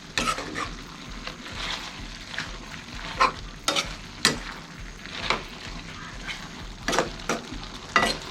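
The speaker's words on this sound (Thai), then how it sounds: "ปลากระทิงผัดเผ็ด จะผัดกี่ทีก็เด็ดทุกรอบครับ" Spicy Thai-style spiny eel stir-fried in a pot, with steady sizzling and frying hiss broken by repeated scraping strokes of a spatula against metal, close and loud, no voices.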